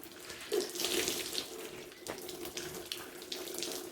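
Warm water drawn from a Ford GPW jeep radiator being poured and splashed into a cup, a steady close trickling and splashing with a few brighter spatters, no voices.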